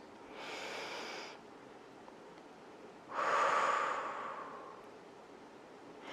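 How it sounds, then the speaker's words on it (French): Two slow, deep breaths during a yoga sequence, each a long airy hiss through the nose, the second louder and closer, with a pause between and no talking. "Restez là une respiration de plus."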